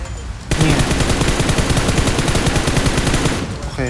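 Rapid automatic gunfire in the PUBG Mobile battle royale game, a loud continuous burst of evenly spaced shots lasting about three seconds after a brief quiet start.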